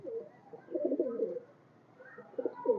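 Saharanpuri Kaldam high-flyer pigeons coo nearby in soft, throaty bursts, a few rolling calls separated by quieter pauses.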